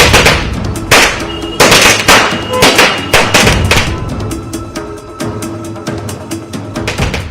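Diwali firecrackers and fireworks burst in rapid, overlapping bangs, loud and sharp at first and then a thinner crackling chain of pops continuing for several seconds, with no voices.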